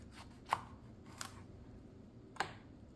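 A knife chopping into a Black Beauty beefsteak tomato on a board, three crisp cuts spaced apart over a quiet background, the first and last sharpest, with no talking.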